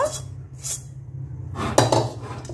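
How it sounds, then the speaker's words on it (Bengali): Cooked nalen gur sandesh scraped and poured from a pan onto a plate, with a few close metallic clinks and scrapes of a spoon against cookware, short and distinct. "গ্যাসটা বন্ধ করে দিয়েছি এবং থালার মধ্যে সন্দেশটা ঢেলে নিচ্ছি"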